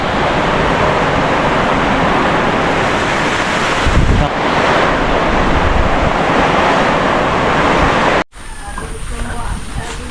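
Typhoon Tino's strong wind roars continuously and loudly, buffeting the microphone in a dense rush with gusts swelling around the middle before a brief cut and a slightly quieter stretch.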